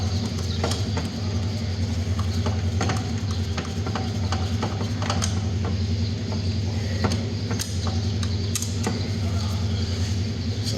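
A small 10mm bolt being worked loose from the fuel filter housing of a Nissan Qashqai, producing a run of quick irregular ratchet-like clicks over a constant low hum.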